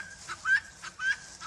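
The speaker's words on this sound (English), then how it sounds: "Guinea fowl are a tremendous bird to have." Guinea fowl give repeated sharp clucking calls in a quick, uneven rhythm, several short bursts close by over faint background noise.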